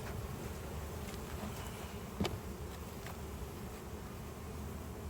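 A shaken hive frame of honey bees, mostly nurse bees, gives off a steady, dense buzzing drone with a brief knock partway through.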